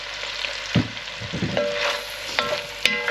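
Onions frying in butter and oil, a soft steady sizzle close by with occasional clinks and scrapes as they are stirred in the pan.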